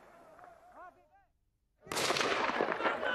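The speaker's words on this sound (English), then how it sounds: "There's the muffled sound of machine guns, the ground shaking." Machine gun fire during the 2002 battle of Qala-i-Jangi in Afghanistan: after a brief voice and a moment of quiet, a sudden loud, dense, sustained burst of gunfire fills the rest.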